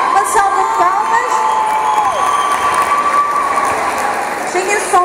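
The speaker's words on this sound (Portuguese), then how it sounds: "Uma salva de palmas" A crowd at a kids' hip-hop dance competition in Faro claps and cheers loudly, with whoops and shouts over the continuous applause and some tonal sounds running underneath.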